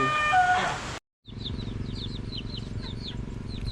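Chicks and chickens around a new coop, with a short burst of sound, a brief silence, then steady high peeping chirps over a low background rumble, close and continuous.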